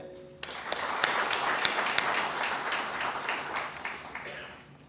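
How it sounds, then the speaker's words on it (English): Audience applause fills an official conference opening, a broad, dense wash of many hands clapping that swells after a quiet start, holds steady with scattered sharper claps, then tapers toward the end. "A round of applause is in order."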